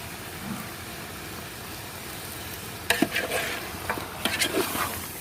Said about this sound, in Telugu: పసుపు, కారం కలిసేదాకా తిప్పుకోవాలి